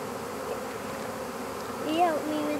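A honeybee swarm on a golf course green drones in a continuous close buzz, with single bees whining past near the end.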